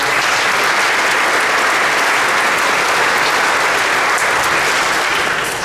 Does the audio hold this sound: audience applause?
yes